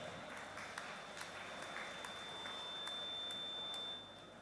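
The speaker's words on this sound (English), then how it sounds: "Comrade, please give a round of applause." Audience applause at an Indian bank officers' association triennial conference, a steady wash of many hands clapping in a hall that fades slightly toward the end.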